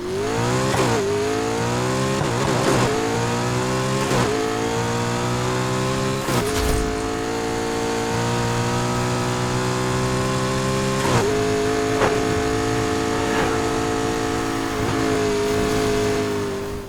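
A McLaren P1 GTR with a 3.8-liter V8 roars in Need for Speed Heat, revving loud and close through repeated gear shifts with rising pitch sweeps and brief drops, plus a faint tire squeal.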